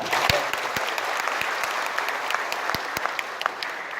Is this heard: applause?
yes